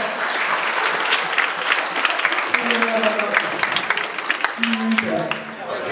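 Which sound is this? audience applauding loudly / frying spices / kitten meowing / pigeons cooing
audience applauding loudly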